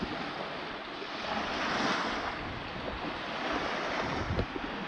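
Surf rolling and breaking on an open sea, with steady broadband wash and gusts of wind buffeting the microphone, continuous and fairly close with no voices.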